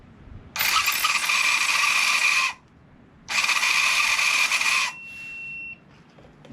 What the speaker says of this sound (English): Now I want to see if this starter motor works.